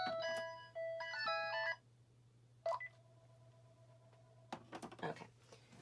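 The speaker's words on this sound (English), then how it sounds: "now my phone's ringing" A phone gives off an electronic melody of short bright tones, pauses, then chirps again with a long steady beep over a constant low hum.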